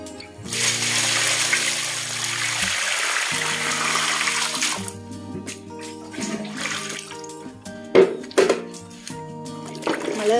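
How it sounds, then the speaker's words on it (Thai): Water runs and splashes as a shirt is rinsed and washed, a steady gushing flow early on giving way to intermittent sloshing and splashes, with faint background music underneath. "เสื้อนะคะที่ทำเมื่อสักครู่เนาะนำไปล้างน้ำหรือว่าก็นำไปซักนะคะแล้วก็นำไปล้างค่ะ"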